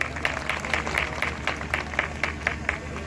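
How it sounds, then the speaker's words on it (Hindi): A crowd at a BJP event for the Nohaleshwar festival applauds to welcome a politician, with rhythmic, evenly spaced clapping in unison and a low murmur of voices underneath. "जोरदार तालियों से स्वागत करें"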